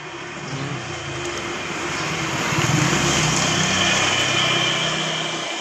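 A Honda CD80 motorcycle engine drones at idle with a low rumbling hum, swelling slightly louder midway and holding constant, close by with no talking.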